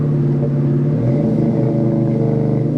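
A 1999 Ford SVT Cobra's V8 engine rumbles steadily at about 55 mph, then its pitch shifts as it downshifts to third gear, with a deep exhaust note throughout.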